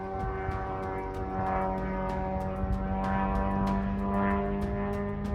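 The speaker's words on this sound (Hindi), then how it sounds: "इस ड्रोन की आवाज एक स्कूटर जैसी होती है, इसलिए इसे फ्लाइंग स्कूटर भी कहा जाता है।" A steady, droning hum from a Shahed drone's small two-stroke scooter engine, with strong tonal harmonics, continuous and fairly loud with no talking.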